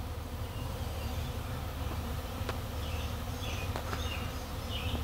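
Honeybees hum steadily around a backyard beehive during a possible swarm or nectar rush, a dense continuous buzz close by with a few sharper passing wingbeats and no talking.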